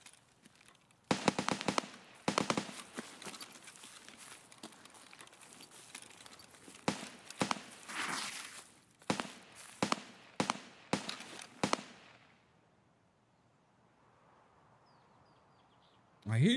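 Sharp, distant-sounding gunshots from players in Escape From Tarkov crack out in irregular clusters, some single and some in quick pairs, with a quieter stretch and faint ambience near the end.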